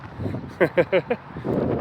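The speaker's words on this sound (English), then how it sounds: "It's really windy today." Steady wind rumble and buffeting noise on a front lawn on a very windy day, with a few short bursts of voice cutting through in the middle.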